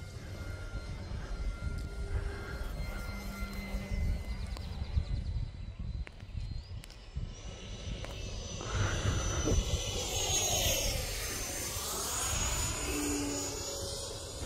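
An E-Flite Ultimate 3D radio-controlled airplane flies aerobatic maneuvers, its motor whine climbing and falling in pitch as it swoops and turns, heard fairly faint at a distance amid outdoor background noise.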